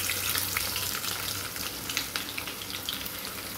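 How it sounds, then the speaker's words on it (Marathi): Chopped onion frying in hot oil for a vegetable biryani, a dense steady sizzle with crackling pops running continuously and close up, with no talking. "मी आता कांदा तळणार आहे। तेल तापलेलं आहे।"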